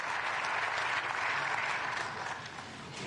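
Audience applauding at the arrival of Ukrainian President Volodymyr Zelensky, a dense, sustained wash of clapping that fades slightly toward the end, with no voices over it.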